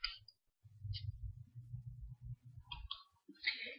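Computer mouse clicks while a file is opened from a dialog: a few faint, sharp ticks spaced apart over a low background hum, quiet and close.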